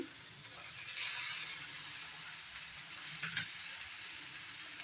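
Boiled potatoes dropped into a hot pan for a dry fish dish, a steady soft sizzle and hiss throughout with a few faint scrapes and stirring sounds, close but fairly quiet.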